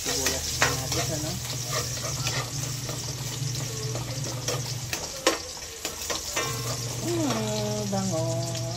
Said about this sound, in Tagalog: Gigisa muna tayo ng bawang. Sibuyas natin, ano?